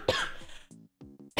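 A single person's cough, close and fairly loud, followed by a couple of shorter throat-clearing bursts and a final sharp cough, with no talking.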